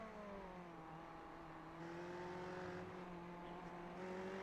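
GT3 race car at Daytona in the iRacing sim, engine note droning steadily then rising under throttle, with harmonic whine climbing through the clip; faint, no talk.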